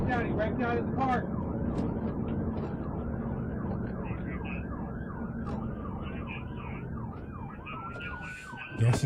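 A police car siren wails in repeated rising and falling sweeps close by, loud and continuous, under engine rumble and occasional voices during a chase through a park on Black Friday.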